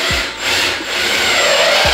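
A screw is driven into wood while assembling IKEA furniture for a desk and gaming setup, a close, loud grinding rub lasting under two seconds.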